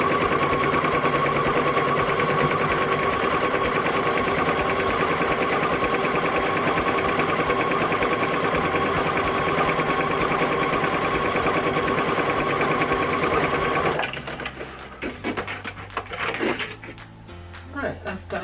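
A sewing machine runs in a long continuous whirring burst while stitching patches onto a scrappy quilt cushion, then stops and gives way to rustling fabric and handling noises.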